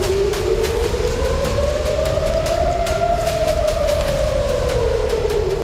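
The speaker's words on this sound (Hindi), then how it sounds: "खतरे का सायरन बज रहा था" Air raid warning siren wailing over Tel Aviv, a single long rising and falling tone that swells and fades steadily, loud and continuous with no voices.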